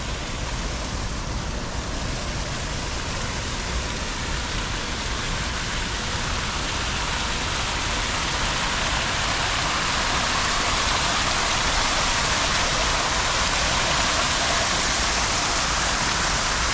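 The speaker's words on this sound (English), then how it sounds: "And they got this little waterfall thing here." A small waterfall feature beside a downtown Pittsburgh street rushes in a steady, full broadband wash of falling water, close and constant throughout with no break.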